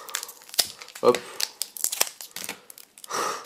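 A Pokémon booster pack sealed with tape is ripped open by hand, with sharp tearing bursts and crinkling foil, alongside a brief spoken word.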